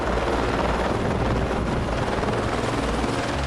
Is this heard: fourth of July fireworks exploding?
no